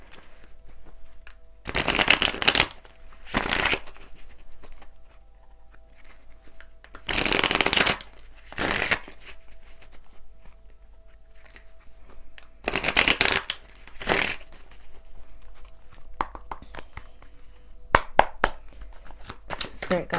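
A deck of cards is shuffled several times in bursts, each a quick riffling flutter, close and crisp, separated by quieter gaps with soft handling and faint talk.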